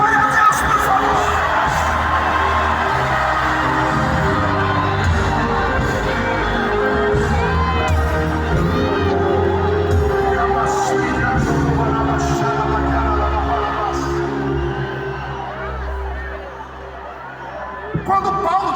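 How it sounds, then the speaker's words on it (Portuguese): A large church congregation at a Brazilian evangelical convention shouts and cheers praise to God, a loud sustained roar of voices and whoops that stays dense throughout before tapering slightly near the end. "dá um berro de glória a Deus"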